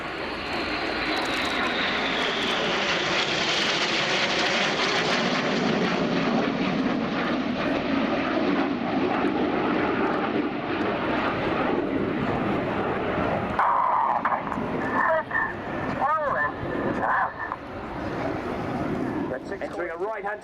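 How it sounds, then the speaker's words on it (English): Red Arrows jets at RIAT flying the corkscrew manoeuvre, a loud continuous jet roar sweeping overhead that slowly shifts in pitch, with a voice talking over it. "Entering a right-hand turn, the following pilots use a lot of rudder to swing the jets out like a pendulum."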